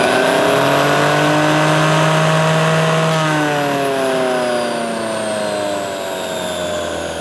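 A vintage Hoover 612 vacuum cleaner running with its hood off, a loud steady motor whine with a strong hum that begins to wind down and slow near the end.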